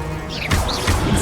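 A quick pair of icy cracking impacts from the Glacius freezing spell in Hogwarts Legacy, a brief whooshing cast followed by a sharp crunching burst, loud and close, within combat sounds.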